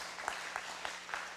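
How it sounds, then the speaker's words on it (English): Applause after a keynote speech at a 2021 conference, heard as a faint, slow series of about four evenly spaced claps in a quiet room. "Let's give the big applause to Dr. Jamila."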